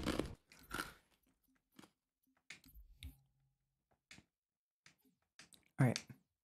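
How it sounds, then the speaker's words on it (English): Ice crunching underfoot in the Halo Reach campaign, heard as sparse, faint crunchy steps with long quiet gaps and a sharper burst near the end, while a person talks over the gameplay. "Sorry if you hear the crunching of the ice."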